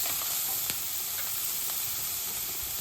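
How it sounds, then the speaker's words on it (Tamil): Grated carrot and green chillies sauté in a pan for aval kolukattai, giving a soft continuous sizzle with faint stirring scrapes and occasional sharper ticks, alone and fairly quiet. "எல்லாத்தையும் இதில் சேர்த்துடலாம். கொஞ்சம் வதங்கட்டும்."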